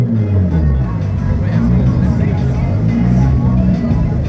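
A single-turbo Toyota Supra engine runs loud and close, its deep rumble steady with slight shifts in pitch, while voices murmur in the background.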